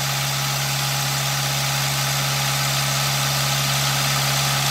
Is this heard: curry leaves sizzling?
no